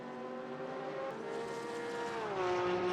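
A Porsche GT race car in an ADAC GT Masters esports sim race drones steadily at high revs, its engine tone holding then dropping slightly as it shifts, loud and close with no talk.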